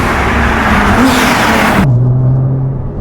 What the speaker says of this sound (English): V6 twin turbo is life, especially when it's in a GTR.